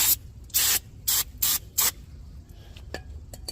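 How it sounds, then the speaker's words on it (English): Cleaner is sprayed onto a rear wheel bearing hub in five short, sharp hissing bursts in quick succession, close to the mic, followed by a few faint clicks in a quiet space. "hit it with a little cleaner"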